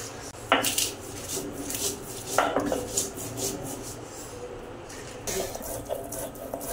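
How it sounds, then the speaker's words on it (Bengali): Fried chillies are ground by hand, giving a few sharp scraping and knocking strokes spaced several seconds apart, close by, over quieter rubbing in between. "একটু মরিচ হচ্ছে হয়ে গেছে পিষা"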